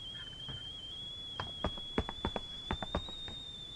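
A teapot whistle in the video game Hello Neighbor 2, a steady thin high tone held throughout and rising slightly, with light clopping footsteps underneath.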